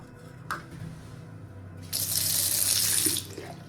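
A tap in an abandoned Soviet bunker is turned on, and water gushes into the sink with a steady, close rush for about a second before it is shut off, following a few faint knocks.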